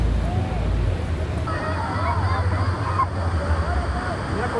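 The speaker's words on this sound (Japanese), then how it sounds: "さあいよいよ滝の下までやってきました。 映像ではあんまり伝わりきらないですがかなり激しいです" A powerful waterfall roars as a boat sits below it, a constant loud rush of churning water and spray beneath voices and chatter.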